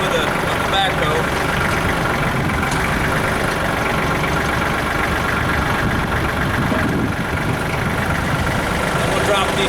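A Kubota tractor's engine runs steadily at idle while the backhoe boom is lowered, a loud continuous mechanical rumble with hydraulic working noise throughout and a voice talking over it.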